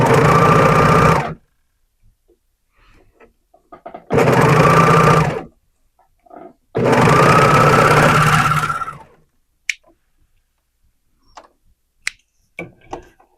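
Three bursts of sewing machine stitching on leggings, each a loud, close, rapid whir lasting one to two seconds, separated by quiet pauses with small handling clicks.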